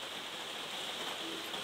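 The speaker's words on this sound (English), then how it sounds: "That noise is the rain." Steady rain falls on an outdoor surface, a continuous even hiss with no breaks, moderately loud and constant throughout.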